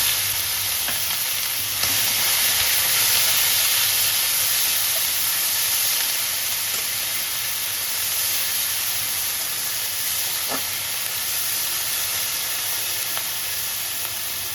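Turmeric and onion paste sizzle and hiss steadily in a hot pan for a Bengali pointed gourd and prawn curry, a continuous close frying sound with occasional stirring scrapes and no talk.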